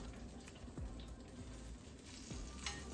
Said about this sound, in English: you can only allow something to fry in 1 inch of oil for so long